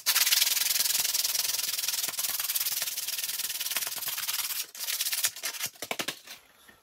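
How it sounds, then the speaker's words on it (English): Sandpaper rubbed by hand over a wooden branded sign, a loud, close, continuous scratchy rasp that breaks into shorter separate strokes near the end before fading out. "Okay, so a bit of sandpaper."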